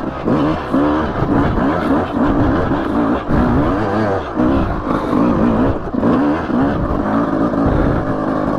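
A Suzuki RM 250 enduro dirt bike engine roars loudly and continuously, its pitch rising and falling as the throttle is worked, close up.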